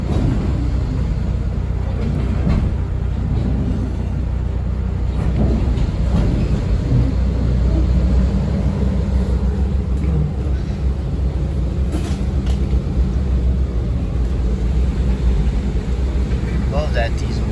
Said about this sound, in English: Love that diesel rail sound.